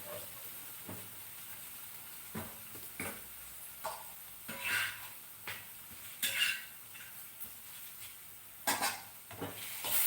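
Vegetable pieces for a cauliflower curry fry in a pan, giving a soft, steady sizzle and hiss broken by irregular scrapes and clinks of a stirring utensil against the metal, with no one talking.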